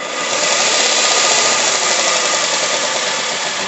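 A Parkside bench grinder whirs loudly and steadily, its broad motor-and-wheel whine holding for a few seconds and easing only slightly as it winds down after switch-off, with no voices.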